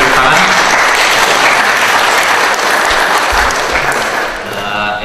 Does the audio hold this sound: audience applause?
yes